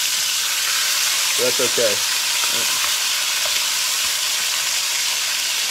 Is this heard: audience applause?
no